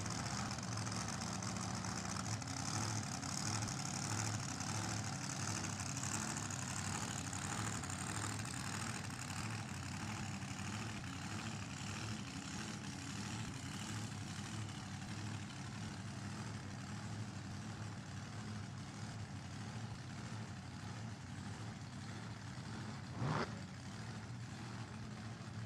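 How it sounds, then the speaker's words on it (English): Drag racing cars idle at an NHRA divisional race, a loud, steady low engine rumble that holds throughout with a brief sharp knock near the end. "Couple loud cars."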